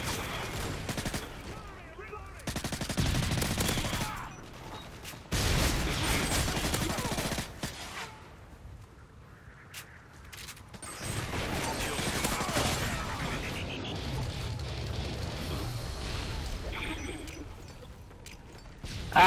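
Bursts of automatic gunfire in Call of Duty: Modern Warfare 3 multiplayer, a Kill Confirmed match, come in several loud clusters separated by quieter gaps, with a player talking at times over the shooting.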